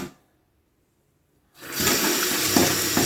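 Water rushes out onto a surface cleaned with Elbow Grease lemon power paste, starting abruptly after a brief pause and then running loud and steady like a tap spray.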